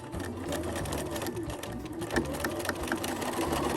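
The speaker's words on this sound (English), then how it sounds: "So I'm going to go ahead and sew forward." Sewing machine stitching forward through body pillow fabric, a steady close whirring hum with a rapid needle rhythm running unbroken throughout.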